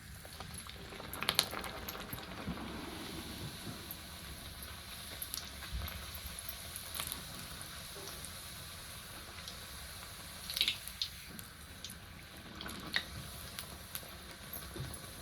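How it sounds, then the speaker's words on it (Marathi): A puri fries in hot oil, with a continuous bubbling, hissing sizzle held close for a long stretch and a few brief clinks of utensils, with no talking. "तर आता ही पुरी मी तेलात टाकून घेते"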